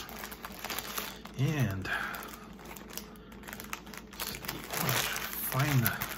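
Crinkly plastic zip-top packaging of Hostess Jumbo Glazed Strawberry Donettes rustles and crackles up close as it is handled and opened, with a person talking over parts of it.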